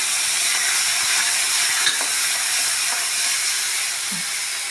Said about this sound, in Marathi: मिरची छान तडतडली की टमाटर घालणार आहोत।